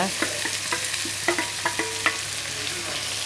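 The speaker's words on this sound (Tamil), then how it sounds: "அது கூடவே கொஞ்சம் கருவேப்பிலையும் சேர்த்து வதக்குங்க" Finely cut onions and curry leaves sautéing in a pan, a constant close sizzle with regular light taps and scrapes of a stirring spoon, no voices.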